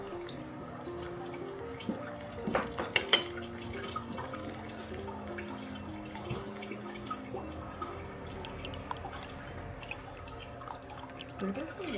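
Water trickles and drips steadily through a draining Chinese tea tray and down its tube into a bucket, a continuous light splashing with occasional sharper drips, while people talk nearby.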